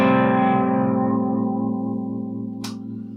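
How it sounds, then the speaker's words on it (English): An electric guitar chord rings out and decays slowly while the tremolo bar adds a gentle, steady warble to the pitch, sustained and fairly loud, with a brief bright noise near the end. "One way of using your trem is for a gentle warble."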